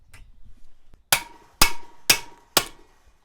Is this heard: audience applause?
no